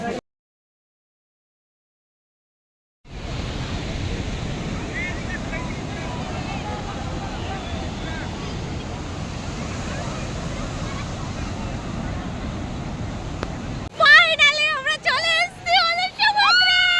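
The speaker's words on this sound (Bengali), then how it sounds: "আর কি জোরে জোরে ঢেউ আসছে" Strong ocean waves at Puri sea beach make a steady, loud roar that starts after a silent opening and continues unbroken, with voices breaking in near the end.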